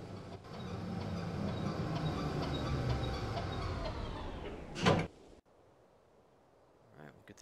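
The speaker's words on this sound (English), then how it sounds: "Oh, it's an elevator. It's a curved elevator." A curved elevator door in the video game Syberia slides along with a steady mechanical rumble for about five seconds, then halts with a sharp clunk, leaving quiet room tone.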